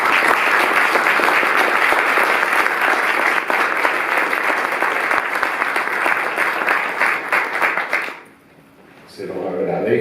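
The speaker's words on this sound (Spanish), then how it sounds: "Darle la bienvenida y un fuerte aplauso al doctor Julio Mayer." An audience gives loud, dense applause to welcome Dr. Julio Maier at a lecture, sustained clapping close and steady for about eight seconds before it cuts off abruptly, followed by a brief hush and faint room sound.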